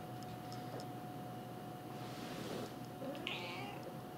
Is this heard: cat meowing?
yes